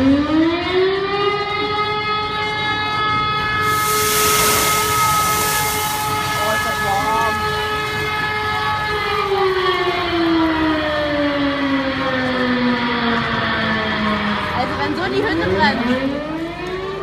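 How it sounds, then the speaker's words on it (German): A loud civil defense siren wails steadily with rising and falling pitch during a fire brigade's grease-fire demonstration at its 90th anniversary, with a voice talking briefly over it. "die Sirene läuft im Hintergrund"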